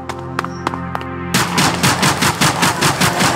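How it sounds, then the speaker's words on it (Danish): Gunfire in the video game Zombie Stories: a few spaced single shots ring out, then a rapid automatic burst of evenly repeating, loud shots runs to the end. "Okay, vi får skud her."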